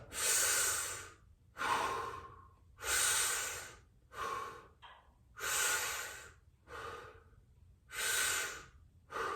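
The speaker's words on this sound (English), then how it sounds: "Take a deep breath." Slow, deep breaths drawn in and let out while relaxing to brace, a series of about eight close, airy inhales and exhales alternating in a steady rhythm with no talking.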